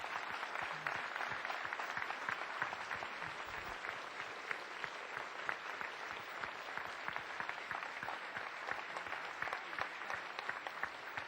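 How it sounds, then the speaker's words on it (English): A luncheon audience at a Rotary gathering gives a sustained round of applause for top academic scholars, many hands clapping in an even, dense wash that holds steady throughout, moderately distant. "please stand up so we can give you one more round of applause."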